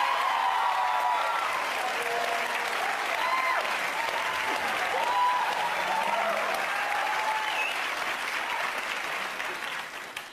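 A studio audience at a talk show claps steadily in a full, even wash of applause, with faint voices underneath. It fades slightly at the end.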